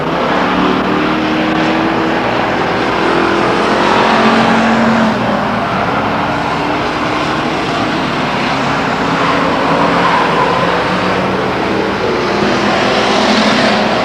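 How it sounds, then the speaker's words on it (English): Race cars lap Stockton 99 Speedway in a continuous loud engine roar that swells and fades as cars pass, with no clear talk over it. "Tom Bolin sneaks around the 5 car for second place, 4 laps down"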